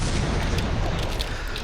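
Chain lash grenades exploding in Planetside 1, a dense run of overlapping booming blasts that fill the short clip loudly without talk.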